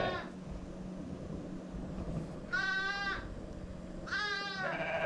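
Lambs and ewes bleat in two clear, wavering calls, each lasting about a second, close by in a barn nursery pen over a low steady background hum.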